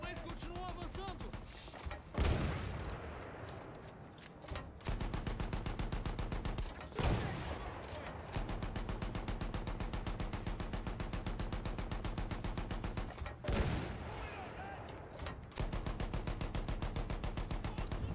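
Rapid automatic gunfire in the video game Battlefield 1, long sustained bursts of loud, fast shots broken by a few heavy blasts and short pauses, continuing almost without gaps.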